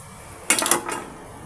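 A quick cluster of bright metallic clinks and clatters as a rice cooker's metal inner pot is handled, then quiet again.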